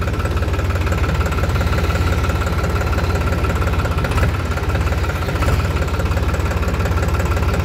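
A New Holland tractor's diesel engine runs steadily while driving, giving a continuous close, loud low rumble with a knocking pulse and vibration and no break throughout.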